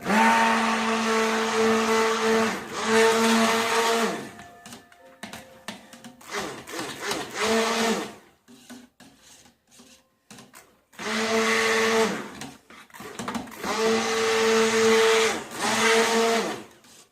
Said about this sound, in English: I should trap it under my blender.